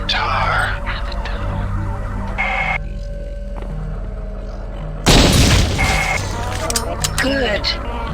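A loud explosion bursts out as an alien egg is destroyed in the System Shock 2 video game, a sudden booming crack that cuts through a droning ambient hum and trails into rumbling debris.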